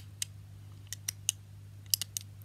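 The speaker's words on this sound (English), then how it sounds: "take your pen and pop some little holes in the top of your tin foil hat" A pen pokes holes in a tin foil hat, giving seven sharp, crisp crinkling pops at irregular intervals over a steady low hum, fairly close and quiet.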